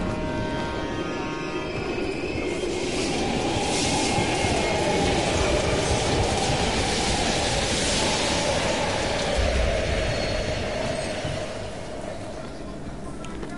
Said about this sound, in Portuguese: A gente pode usar o trem para passar.